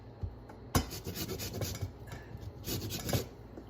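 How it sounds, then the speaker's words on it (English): Lemon zest is rasped off a lemon on a grater for Greek-style chicken and spinach hand pies, giving close, dry scraping strokes in two brief bursts with no talk. "We're gonna add some lemon zest."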